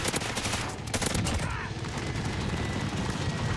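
A Bruen MK9 gun firing in Modern Warfare, loud fast automatic bursts packed close together, with the rattle continuing steadily and a voice faintly underneath.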